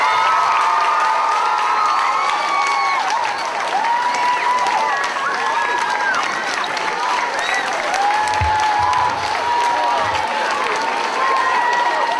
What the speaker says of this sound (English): I think we should give Dr. O'Malley one more round of applause.